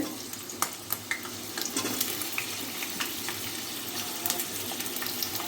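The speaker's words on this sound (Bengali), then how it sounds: "আলুটা দিয়ে দেব তেলের মধ্যে ভেজে নেব লাল লাল করে" Long-cut potato slices frying in mustard oil in a home kitchen, a soft continuous sizzle with scattered sharp crackles and spits, fairly quiet and close.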